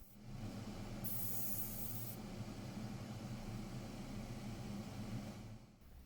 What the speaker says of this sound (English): I gave the whole figure a coat of black with the airbrush.